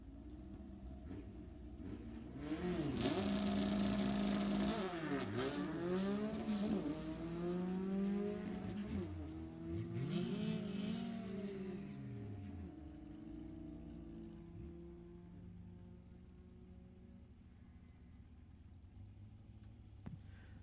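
Drag racing cars at Sacramento Raceway in a Summit ET series event, with engines revving hard and pitch sweeping up through the gears as cars launch and pass. It is loud at first, then fades into the distance, and no one speaks.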